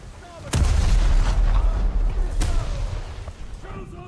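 Ship guns in a naval combat game firing at a target: a sudden heavy cannon blast followed by rumbling, then a second sharp shot, with faint talk beneath.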